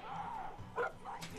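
Dog barking and yipping in the Far Cry 5 video game, a few short close yaps mixed in with game background sound and some voice.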